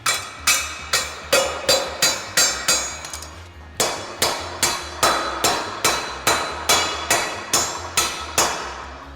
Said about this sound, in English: I'm gonna use a hammer just to try and get some of these flat spots out of it as well.